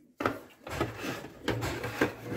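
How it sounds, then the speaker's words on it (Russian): Plastic casing of a Chinese cordless drill's charger being pried and worked apart by hand, with scraping, rubbing rasps and a few sharp clicks at close range, no talking. "Разбираем этот зарядный пристрой, типа."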